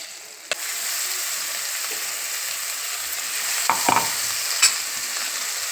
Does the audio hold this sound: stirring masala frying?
yes